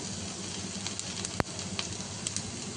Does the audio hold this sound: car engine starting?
no